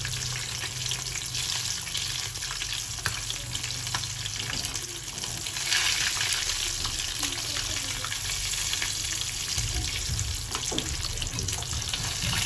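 A single-boned fish deep frying in oil crackles and bubbles in a steady, close hiss that swells slightly midway, with no talking over it.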